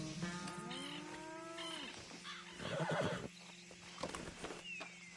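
A horse whinnies in Red Dead Redemption 2, a loud rising-and-falling neigh followed by snorts and hoof movement, close by over a low ambient hum.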